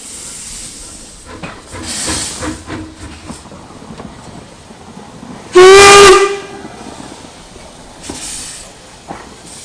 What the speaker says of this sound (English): two more ex-NZR steam locomotives were running, namely L507 and F180